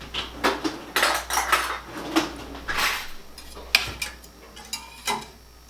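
A metal spoon clinks and scrapes against a pot of Alfredo sauce kept over low heat, a string of close, irregular taps and clatters with quiet gaps between them.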